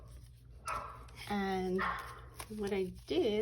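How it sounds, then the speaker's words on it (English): Dogs barking and yipping indoors in short bursts, partly under a woman's speech, during a craft card project. "sorry about my dogs there"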